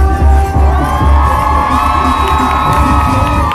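A crowd cheers and whoops loudly and without a break at an outdoor benefit concert at Standing Rock, children's shouts mixed into the dense roar, with no talk above it.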